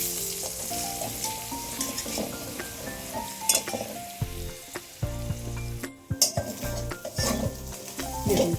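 Two eggs stirred in a frying pan while sizzling loudly, with metal utensil clinks and scrapes against the pan breaking in repeatedly, close up and without talk.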